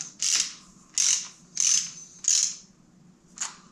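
A ratchet tightens bolts to torque on a Kubota D1105 diesel engine during a rebuild, making five short, close bursts of rapid clicking separated by brief pauses in a quiet workshop.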